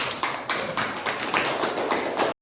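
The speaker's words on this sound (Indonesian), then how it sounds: "Kita berikan aplaus." Classroom applause, a brief burst of clapping from a group of students, moderately close with a steady patter that stops abruptly.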